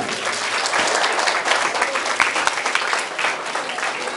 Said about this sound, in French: Il faut l'applaudir là.